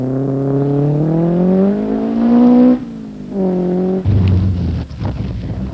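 Ford Escort and Datsun rally cars race on the 1977 Southern Cross Rally, with engines howling up through the revs, dropping at gear changes and climbing again, then giving way to rougher roaring and wind noise close by.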